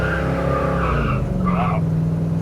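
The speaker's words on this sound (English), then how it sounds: "Let's see if we can get a tiny burnout." A 1968 Mercury Cougar with an Edelbrock carburetor and performance intake does a short burnout, its tires squealing loudly in rising and falling tones over the engine roar, close up.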